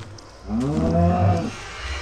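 A cow in the video game Minecraft gives one low, drawn-out moo, close and loud, lasting about a second, with quiet room tone on either side.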